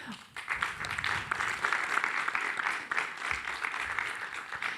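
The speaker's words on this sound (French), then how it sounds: "Le public est super attentif, j'allais oublier, mais il a applaudi spontanément." A French conference audience claps spontaneously during a live presentation session, steady dense applause filling the room at close range, without a break, and a few voices murmur underneath.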